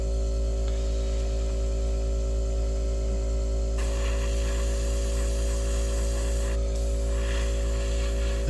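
An airbrush sprays camouflage paint with a continuous close hiss over a steady electrical hum. The spray grows brighter and louder partway through, then briefly cuts out and resumes.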